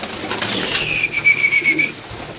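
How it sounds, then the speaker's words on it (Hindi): Pigeons cooing close by with a brief burst of wing flapping, a short busy stretch of bird sound without talking. "बहुत VIP आउट क्लास बड़िया बड़िया वड्डियां छत्तां दे कबूतर थे माशाल्लाह"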